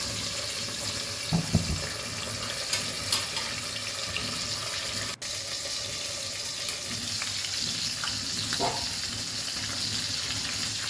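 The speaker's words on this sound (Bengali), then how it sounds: "মাছটা একটু ডিপ ফ্রাই করে নিলাম" Fish deep-frying in oil gives a continuous dense sizzling hiss up close, with a few soft knocks and clinks scattered through and one brief sharp click midway, no talking.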